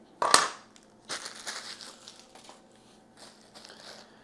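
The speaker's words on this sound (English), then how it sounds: "I'm going to go ahead and pull off the protective tape." Protective tape is peeled off the blade of a Fullstar vegetable chopper: one sharp, loud crackling rip at the start, then softer intermittent crinkling and rustling of plastic nearby.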